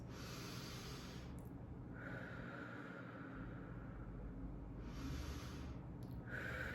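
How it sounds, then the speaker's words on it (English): Slow, deep breaths drawn in and let out, two long hissing inhales a few seconds apart, close and soft over a quiet steady background hum. "And take deep breaths."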